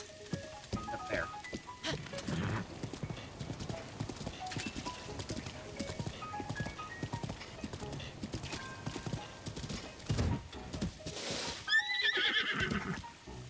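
Horse hooves clip-clop steadily in Zelda Breath of the Wild as a horse is ridden, close and continuous, with a sharp neigh near the end.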